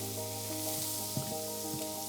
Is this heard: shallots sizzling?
yes